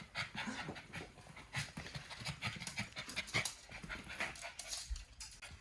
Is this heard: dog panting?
yes